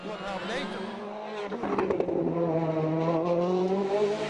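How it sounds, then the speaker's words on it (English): A rally car on a Spanish WRC stage keeps driving on a punctured tyre near the finish, its engine loud and revving with rough tire noise, while a commentator talks over it. "He's picked up a puncture near the finish, but he's decided to keep driving on it."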